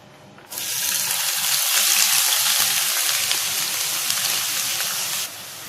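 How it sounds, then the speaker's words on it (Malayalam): Chopped medium onion dropped into a hot pan sets off a loud, steady sizzle that starts abruptly and keeps hissing through the clip, with faint stirring clicks underneath. "ഒരു സവാള അരിഞ്ഞതാണ്, നന്നായിട്ട് ചോപ്പ് ചെയ്തതാണ് ഇട്ട് കൊടുക്കാൻ പോകുന്നത്"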